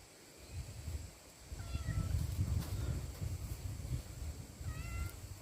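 A cat meows twice, faint and short, outdoors by a rice paddy, over a low rustling background with the cries a few seconds apart.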